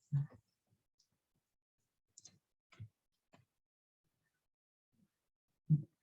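Mouse clicks on a computer button, a handful of crisp, close, isolated taps spaced irregularly across quiet, with no talking.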